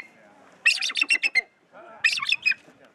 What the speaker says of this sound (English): once he took the mask off of it, it started doing the call